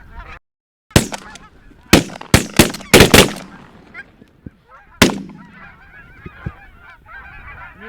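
White geese honk repeatedly in a flock during a goose hunt, a busy, nasal chorus heard both nearby and farther off, broken by several loud, sharp shotgun blasts in quick succession.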